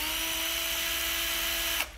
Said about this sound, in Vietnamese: Đây là con khoan Hitachi 12V.